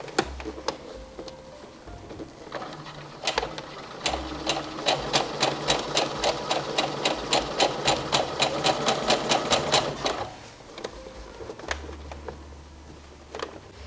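Sewing machine stitching around the shoulder seam of a shirred top, a steady rapid run of needle clatter lasting several seconds, bracketed by quieter handling and a few isolated clicks.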